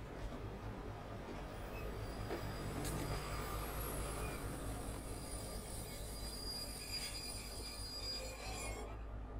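A train runs steadily inside a short horror film, with a constant low rumble of wheels on rails. Faint squeals and metallic scraping ride on top, and it carries on unbroken with no voices.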